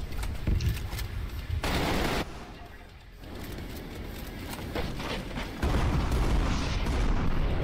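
Rifle fire rattles in Trepang2, with dense bursts of loud shots that break off briefly and then resume, mixed with other game noise.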